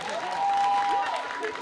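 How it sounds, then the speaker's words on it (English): Audience applause at the close of a superhero-themed live semi-final game show, a steady wash of clapping with some cheering voices and a sustained tone over it, under a minute of crowd noise. "Can we get a massive round of applause for these lot"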